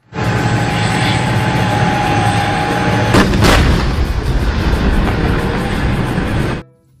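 A toy army tank plays a loud electronic firing effect, a continuous roaring battle sound with two sharp blasts in the middle before it cuts off abruptly.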